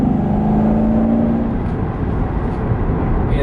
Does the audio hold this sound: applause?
no